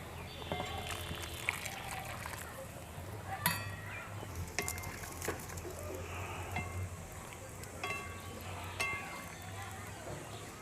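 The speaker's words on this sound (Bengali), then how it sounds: "এর সাথে আমি গরম জল অ্যাড করে দেব সবজিটা সিদ্ধ হওয়ার জন্য।" Vegetables for shukto cook in a pan with a low continuous sizzle and bubbling, broken by occasional clinks of a spoon against the pan. Someone speaks quietly over the cooking.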